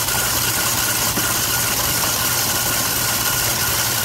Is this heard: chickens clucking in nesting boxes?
no